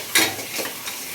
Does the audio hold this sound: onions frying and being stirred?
yes